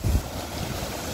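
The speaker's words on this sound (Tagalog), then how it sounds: "Hinahampas ng alon." Ocean waves hitting the shore at Candelaria Beach Resort in stormy, rainy weather, a brief close wash of surf mixed with wind buffeting the microphone.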